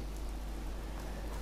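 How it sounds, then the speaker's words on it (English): Steady rain falls in a Fallout 4 game scene, a dense, even hiss with a low rumble beneath it, continuous and unbroken with no voices. "Raining as ever. Seems to rain a lot here."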